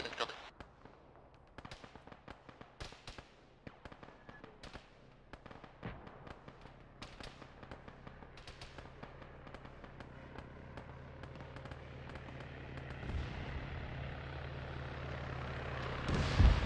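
Cannon fire and explosions in the military game Arma, a string of sharp, booming blasts and cracks at varying distances. They go off irregularly throughout, over a rising background rumble.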